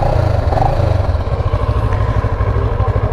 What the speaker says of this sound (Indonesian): Coba kita gas sedikit.